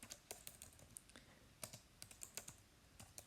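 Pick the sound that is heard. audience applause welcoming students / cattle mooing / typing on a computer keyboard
typing on a computer keyboard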